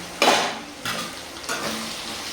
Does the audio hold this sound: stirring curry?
yes